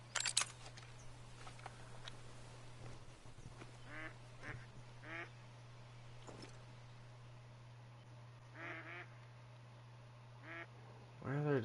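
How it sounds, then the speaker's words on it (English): Ducks quack in several short bursts spread across the scene, scattered and moderately distant, over a steady low hum and faint background noise, with no talking. "Where are there ducks?"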